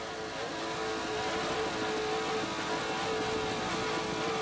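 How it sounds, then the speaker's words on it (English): Powerboat racing engines at the 1991 Islamorada race, a dense continuous roar mixed with wind and water rush, loud and steady with a faint tonal whine running through. "you get the overall views of this powerboat race"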